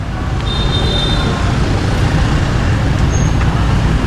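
Night street traffic in Hanoi, Vietnam, with cars and buses passing: a continuous low engine rumble and road roar, fairly close and loud, with a brief high brake squeal over it and no voices.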